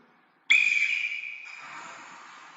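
A zoo keeper gives one sharp, loud whistle to call a snow leopard back into its enclosure. The piercing tone starts abruptly, holds for about a second, then drops slightly in pitch and fades over the next second.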